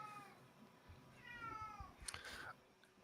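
A cat meows a few times in a drawn-out, wavering voice, close and fairly clear, with some faint background noise and a brief louder cry near the end.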